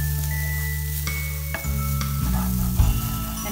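Grated coconut is dry-roasted in a pan without oil while a spoon stirs it, giving a close, steady scraping rustle with light sizzle and a few sharper strokes near the end, with no voices.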